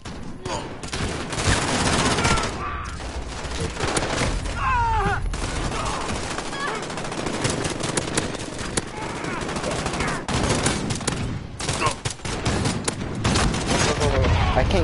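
Rapid, sustained video game gunfire from a pistol, loud and continuous with dense bursts of shots over nearly fifteen seconds, occasional brief gaps, and a voice speaking at times under the shooting.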